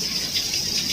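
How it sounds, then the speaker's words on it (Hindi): Heavy rain pours down steadily, a dense, hissing wash of water that stays constant and fairly close throughout the short moment, with no voices. "आज सबसे तेज बारिश आई है हमारे यहाँ"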